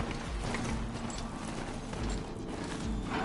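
Horse hooves clip-clop in a steady rhythm inside a video game, moderately loud over a dense, noisy game soundscape, with no talking.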